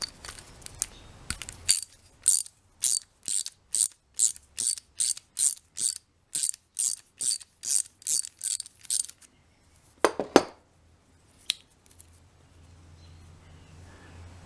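A ratchet clicks rapidly in a series of short bursts, about fifteen sharp back-and-forth strokes, loosening a carburetor bolt nut on a Scotts 21595X8B lawn mower with a 6.5 HP Briggs & Stratton Intek OHV engine, then a clunk and quiet.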